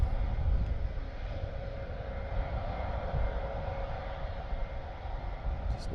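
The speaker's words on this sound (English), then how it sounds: "Just need to hear the change of tone of the engine." RAF Airbus A400M at Benbecula airfield, a low, steady engine drone heard from a distance on a windy day, continuous and fairly faint throughout.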